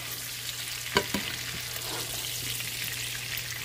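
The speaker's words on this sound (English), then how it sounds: "You just look at it frying, you know." Food sizzles steadily in a hot pan, a soft continuous crackle with a couple of sharper pops near the start, no voices.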